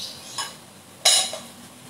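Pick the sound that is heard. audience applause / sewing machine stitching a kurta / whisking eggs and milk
whisking eggs and milk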